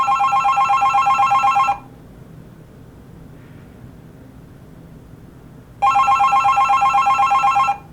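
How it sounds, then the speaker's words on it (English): A touch-tone telephone rung by an escape room prop controller gives a loud electronic trilling ring, stops for a few seconds of quiet hiss, then rings again, with no talking. "The phone will keep ringing as long as I hold that button down."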